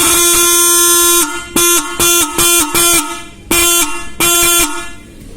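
A modified bike horn sounds close and loud: one long blast, then a rapid series of short honks with brief gaps, another burst, and a fading tail.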